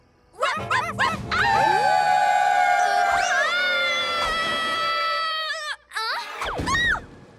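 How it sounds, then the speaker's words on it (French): A cartoon werewolf lets out a loud, drawn-out wavering howl that rises and holds, breaks off, then comes back with a shorter second howl, alone with no talk. "Farfelou, prêt pour un hurlement garou?"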